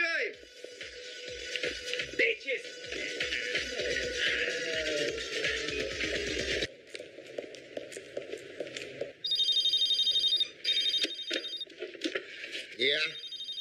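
A cell phone rings in a film scene, its electronic ringtone chirping in repeated bursts over music and background effects, growing brighter and louder in the second half.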